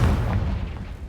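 The fiery Confringo spell bursts in Hogwarts Legacy with a deep, booming blast that fades over about a second under steady game ambience.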